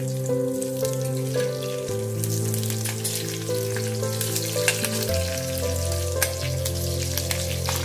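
Cumin, green chili and garlic tempering in hot oil, a dense, close crackling sizzle with popping spatters over a low steady hum.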